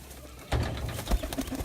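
Pigeons coo on a rooftop loft, a few soft throaty calls rising over a low murmuring background, close by, with a louder burst of movement partway through and no speech.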